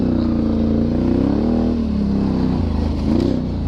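Can-Am Renegade 1000R XXC quad revving in the woods, its engine pitch rising and falling through several throttle surges, loud and close, with faint clatter and no talking.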